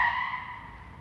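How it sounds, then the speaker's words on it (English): A car passes nearby on a residential road beside a yard, its tire and engine hiss fairly faint and steadily fading over about a second, with no talking. "so you hear that? There's a car over there."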